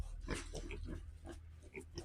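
Pigs grunt and snuffle close by in short bursts, with some low background rumble and faint voices mixed in.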